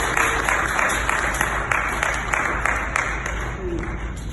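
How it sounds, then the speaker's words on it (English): A church congregation at a parish harvest service claps steadily and rhythmically, a dense continuous applause with a hum in the background. "A round of applause to Jesus."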